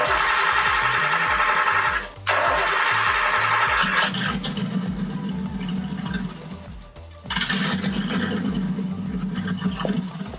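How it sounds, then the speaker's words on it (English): A turbocharged engine cranks over without fuel, with a rough, chattering starter-driven churn that pauses briefly and then resumes, loud and close throughout. "we're going to do the cranking without any fuel, so we can get some circulating in the turbo"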